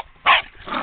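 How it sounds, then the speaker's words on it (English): A tree-climbing dog barks sharply at a squirrel: one loud close bark, then a rougher, quieter second bark soon after, with no voices. "Too much barking."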